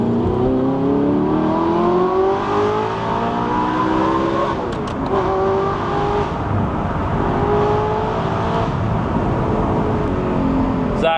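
A gated-manual supercar on a test drive accelerates hard, its engine note climbing loud and close through rising revs, with a brief dip at a gear change before it climbs again.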